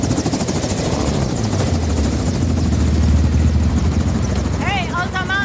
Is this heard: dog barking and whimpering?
no